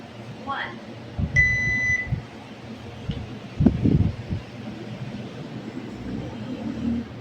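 A kitchen-style timer gives a short steady electronic beep as it is switched on, a brief tone heard between voices and rustling in a room where people prepare for an ice challenge.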